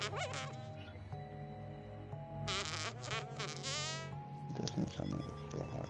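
A frog gun fires in the action video game The Deadly Tower of Monsters, sending out a loud, buzzing swarm of flies in waves across several seconds. Quacking, honking game effects mix in, and speech runs underneath.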